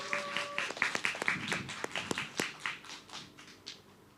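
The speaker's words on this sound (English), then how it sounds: "please everyone give applause for this program" Scattered, faint clapping from a small online coaching-class audience, a few uneven claps that thin out and fade, heard alone without talk.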